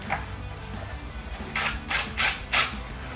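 T30 Torx screws are driven into the convertible top of a BMW 128i. A steady background hum runs throughout, and four short rasping ratchet-like bursts come in quick succession near the end.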